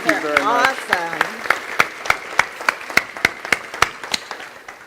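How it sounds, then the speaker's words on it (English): Applause for sponsors at a fundraiser breakfast breaks out as a room of hands claps, starting under a speaking voice and settling into a steady, slowing clapping that fades out. "So round of applause for Capitula Homes and Red Apple Market."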